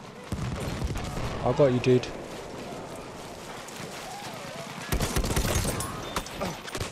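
Battlefield 1 gunfire on the Tsaritsyn map comes in rapid bursts of close shots, one early and one later, mixed with game noise while a person talks.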